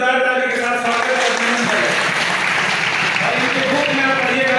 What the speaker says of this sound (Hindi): एक बार इनके लिए जोरदार ताली के साथ स्वागत है।